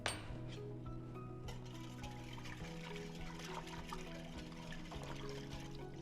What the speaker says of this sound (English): I'm going to use the whisk because stuff is a little bit chunky.